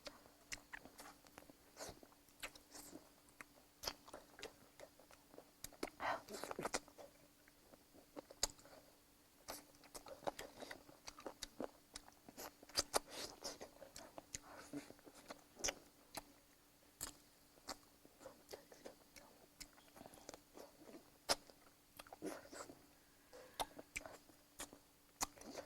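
Spicy chicken feet being chewed close up, a steady run of small wet clicks, crunches and smacks repeating through a long stretch, fairly quiet and without talk.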